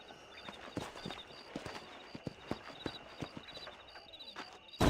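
Several horses' hooves clip-clop at a walking pace in the Red Dead Redemption video game, scattered and fairly quiet, with faint ambient sound and a sudden louder burst at the end.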